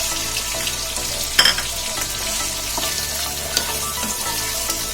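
Mutton sizzles and fries with onions in a pan, a steady crackling hiss with occasional stirring clinks and scrapes, close and fairly loud, no voices.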